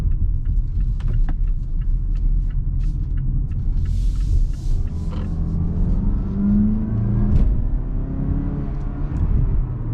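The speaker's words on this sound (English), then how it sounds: "Go ahead and throw it into sport mode, make this right turn, and see how fast we can get up to speed." A 2021 Mazda CX-5 GS with a 2.5 engine pulls through a right turn in sport mode, its steady engine rumble and road noise building under the cabin with a rising tone toward the end.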